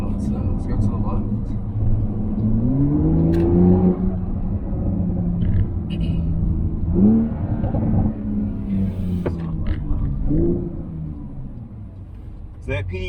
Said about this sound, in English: So that PDK gets a little sharper, noise gets a lot louder.